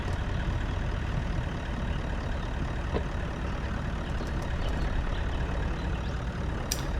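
A Toyota LandCruiser 76 four-wheel drive towing through a tight turn on a high country track, its engine a steady low drone with some rumble, running continuously and near without anyone talking.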